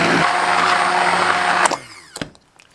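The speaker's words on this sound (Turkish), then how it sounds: "Güzelce blenderdan geçirdik." A countertop blender whirs loudly and steadily while pureeing banana peel for a Turkish recipe, then cuts off abruptly, leaving a few soft knocks and clatters.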